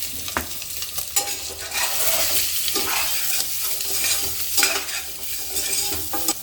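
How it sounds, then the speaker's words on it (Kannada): Egg bhurji fries in a pan with a constant close sizzle while a utensil repeatedly scrapes and stirs through it, producing irregular clattering strokes over several seconds. "ಹೀಗೆ ಸ್ವಲ್ಪ ಫ್ರೈ ಮಾಡೋಣ."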